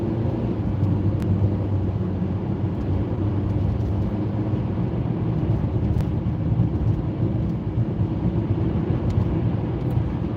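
Car accelerating hard from the driver's seat to merge into a gap in traffic, a steady loud engine and road roar rising in low rumble throughout with no voices.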